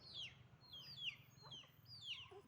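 Hens and chicks roosting up in a guava tree give soft, repeated clucks and short chirpy calls, several in a row, faint and close in a quiet evening setting.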